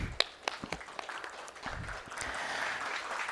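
Audience applause greeting a speaker at a performance marketing conference, starting as scattered, distinct claps and swelling into a softer continuous patter over about three seconds.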